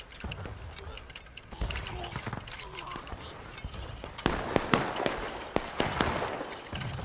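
Musket gunfire in the Civil War video game War of Rights, a scattered volley of sharp shots near and far, with occasional clattering, under voices calling commands.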